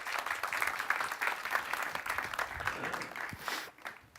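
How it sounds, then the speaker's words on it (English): A conference audience claps for three panelists at a discussion on surveillance ethics, giving a steady wash of applause heard from a distance that fades out toward the end. "A warm round of applause for our three panelists."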